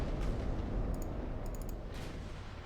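Naval gunfire in the warship battle game Ultimate Admiral: Dreadnought, with heavy, continuous low booming and rumbling from several guns blending into one dense roar. A few sharp higher cracks break through the barrage.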